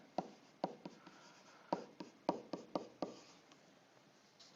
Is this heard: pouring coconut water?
no